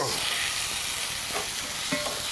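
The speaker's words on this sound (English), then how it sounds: "Let's hear that sizzle." A ribeye steak sizzling in a hot skillet, a close, bright crackling hiss with a few faint scraping touches as it cooks.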